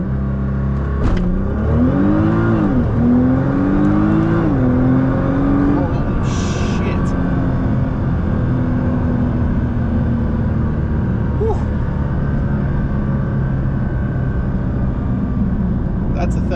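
A Nissan R35 GT-R's engine revs and surges under launch control, the pitch climbing loudly for several seconds and then settling into a steady roar, with people talking over it.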